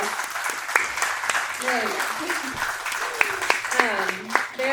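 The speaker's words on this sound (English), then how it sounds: "Can we give them another round of applause?" Church congregation applauding a visiting group, continuous clapping mixed with voices and talk over it, moderately loud throughout.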